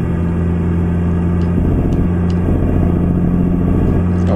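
A Freightliner FLB truck engine in Euro Truck Simulator 2 runs loud and close with a steady low drone, and its revs step up and down slightly. No one talks.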